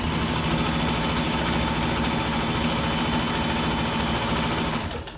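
A sewing machine runs a continuous straight stitch through neoprene, a steady close mechanical whir with fine rapid needle rhythm, then it slows and stops near the end.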